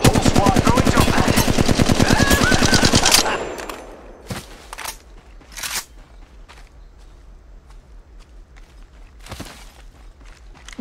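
Automatic weapon fire in Apex Legends Mobile rattles in a fast, steady, loud burst for about three seconds, then gives way to scattered single shots, footsteps and quieter in-game sounds.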